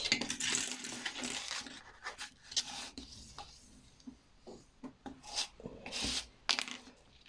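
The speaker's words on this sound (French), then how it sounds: "on va rapprocher le bas vers le haut et on marque le pli" Paper being creased and folded for a book-shaped box, close rubbing and scraping strokes in uneven bursts with soft taps and crinkles, no talking.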